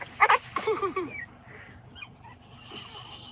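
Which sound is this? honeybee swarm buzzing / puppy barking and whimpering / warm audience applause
puppy barking and whimpering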